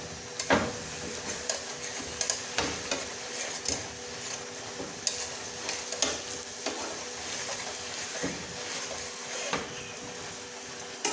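Spicy onion parathas fry in a pan with a steady close sizzle, broken by occasional scraping and stirring clicks of a spatula, continuous and moderately loud with no talking.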